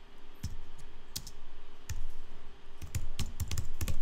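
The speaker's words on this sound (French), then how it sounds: "Je vais taper iconicité." Keystrokes on a computer keyboard as a single word is typed, sparse clicks in small clusters spread across the clip, close and fairly quiet over a low steady hum, with no talking.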